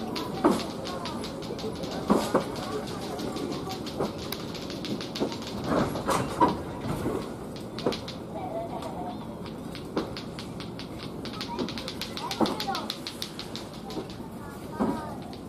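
A cargo baggage car of a passenger train rolls steadily along the tracks with a continuous rumble and a rhythmic clickety-clack of wheels over rail joints, heard close by.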